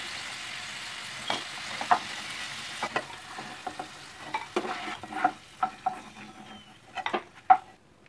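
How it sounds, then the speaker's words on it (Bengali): Pieces of yam (ol) fry in oil in a pan, giving a steady soft sizzle broken by scattered clinks and scrapes of a spatula stirring, close and fairly quiet, with no talking. "এখানে ওলটা খুব সুন্দরভাবে ভাজা হয়ে গেছে"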